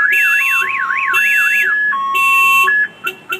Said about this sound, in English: I'm going to go ahead and fire off the alarm.